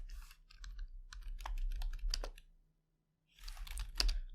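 Quick bursts of keystrokes on a computer keyboard, typed while entering commands at a terminal to start a Metasploit database, fill the first seconds, then a brief silent pause before another flurry of clacking taps.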